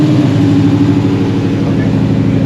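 A hot rod truck idles close by with a lumpy, uneven pulsing drone that holds steady throughout, while voices mix in faintly around it.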